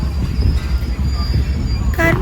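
Loud, close rumble of a running train with a thin high wheel squeal, and a brief voice near the end.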